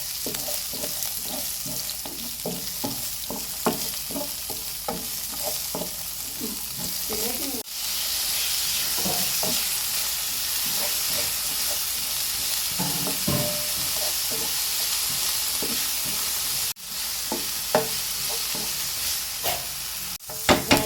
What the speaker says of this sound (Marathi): ग्रीन चिली मातशें फोण्ण मारता.